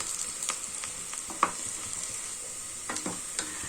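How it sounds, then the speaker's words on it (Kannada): Onion frying in foaming peanut oil over high flame, a faint steady sizzle broken by scattered clicks and scrapes of stirring. "ಕಡಲೆಕಾಯಿ ಎಣ್ಣೆ ಹಾಕಿದಾಗ ನಮಗೆ ಈ ಥರ ನೊರೆ ನೊರೆ ಬರುತ್ತೆ ಚೆನ್ನಾಗಿ ಫ್ರೈ ಆಗಬೇಕು ಈರುಳ್ಳಿ"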